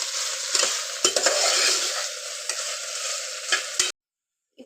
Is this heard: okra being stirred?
yes